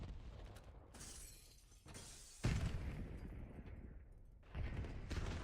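Grenades detonating during a competitive online shooter match, several loud broadband blasts and shattering bursts arriving in quick succession, with one heavier near explosion standing out midway.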